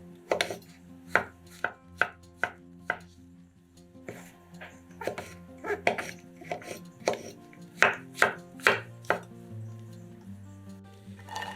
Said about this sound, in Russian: Шампиньоны моем и нарезаем кубиками.